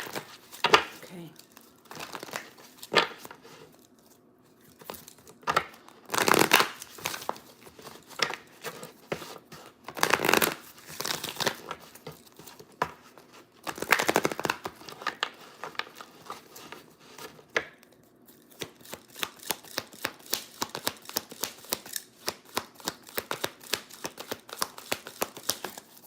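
Tarot energy cards are handled and shuffled, giving repeated crisp crinkling and slapping bursts, irregular at first and then a rapid steady riffle near the end, close and fairly loud with speech in places.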